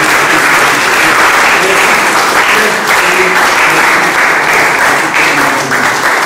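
A church congregation at a Sunday service in Kinshasa breaks into loud, dense applause that continues evenly for several seconds, with voices faintly mixed into the clapping.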